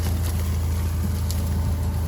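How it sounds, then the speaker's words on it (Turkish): A tractor engine drones steadily in a corn field during a harvest of corn for chickens, a constant low rumble heard close by with wind buffeting the microphone and no speech. "Böyle traktörü bir yol açalım."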